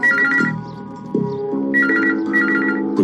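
A telephone rings with a loud, close electronic melodic ringtone, repeating its tune in several bursts with no voices over it.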